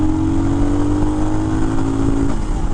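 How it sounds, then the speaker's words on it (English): A Royal Enfield Himalayan motorcycle accelerates at full throttle, its steady single-engine drone loud and close throughout with no talking. "Here we go, full throttle, ready?"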